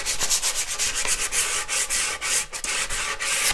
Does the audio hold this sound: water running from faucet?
no